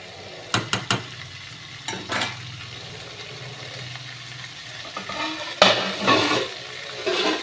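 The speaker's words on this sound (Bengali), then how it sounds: "ফুলকপি আলুগুলোকে ছেড়ে দিয়েছি। এটা একটু কষানো হোক।" Cauliflower and potato pieces fry in a pan, a low steady sizzle broken by a few sharp clinks and stirring scrapes that come in bursts.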